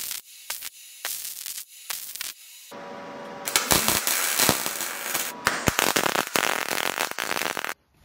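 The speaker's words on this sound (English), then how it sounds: "get these pieces welded up" Steel awning arm pieces being welded, with bursts of crackling, spitting arc noise that start and stop in short runs before a longer sustained stretch, close and fairly loud.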